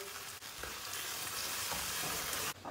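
A pan of flour hisses and sizzles steadily as orange juice is poured in, a close, even frying noise that cuts off sharply just before it ends.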